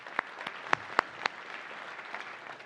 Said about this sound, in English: can we give Chris a big round of applause, our amazing host for this evening?